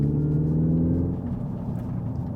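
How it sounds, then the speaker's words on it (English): Hyundai IONIQ 5 N electric performance car under full throttle uphill in fourth, a loud deep rising hum and drone from inside the cabin that falls back into steady road rumble after about a second. "Okay, going up a hill, fourth. I'm gonna put to the floor"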